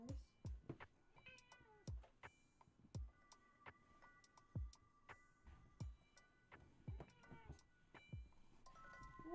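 A pet cat meows repeatedly indoors, a series of clear rising and falling cries close by, with soft ticking taps and scattered household noises between the calls.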